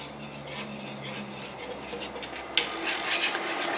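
Mulberry jam with sugar and pectin stirred in a pot at a rolling boil: steady scraping and rubbing of a spoon against the pot, with one sharper clink partway through, fairly close and moderately loud.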